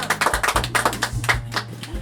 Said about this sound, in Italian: Applauso!